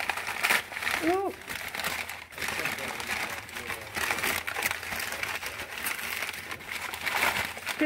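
Wrapping paper crinkling as a Peanuts Snoopy collectible is unwrapped, a close, continuous rustle and crackle with a brief chirp-like squeak, heard alone.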